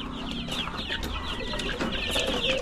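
Month-old young chickens cluck and chirp continuously in a busy, close-up chorus, with steady background noise throughout and no talking.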